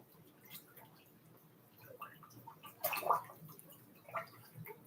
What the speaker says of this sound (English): now I'm going to just stir it around and get this color as evenly dispersed in here as possible